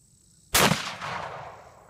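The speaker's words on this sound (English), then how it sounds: "This is seeing how far a shotgun will shoot." A single shotgun blast fired outdoors at a watermelon: one sharp, loud crack that rolls off into a long decaying echo, with no talk over it.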